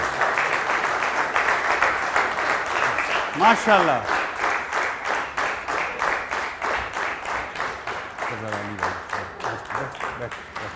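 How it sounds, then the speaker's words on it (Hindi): Sustained rhythmic clapping from an audience at an award show in Chitral continues throughout, with a voice briefly speaking over it partway through. "तालियां बजती रहनी चाहिए जी"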